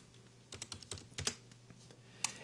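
Computer keyboard keys are pressed in short, irregular bursts of light clicks, close and fairly quiet, with a few louder taps, while working in the UDK game editor.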